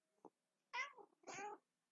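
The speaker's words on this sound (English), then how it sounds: "I don't know if you can hear my cat or not." A house cat gives a short chirp, then two drawn-out meows in fairly quiet indoor surroundings, close and clear with pauses between them.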